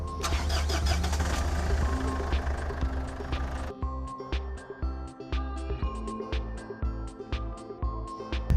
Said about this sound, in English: you may start the vehicle